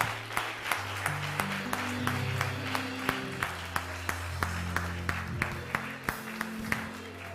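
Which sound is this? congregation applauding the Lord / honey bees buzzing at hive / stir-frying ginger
congregation applauding the Lord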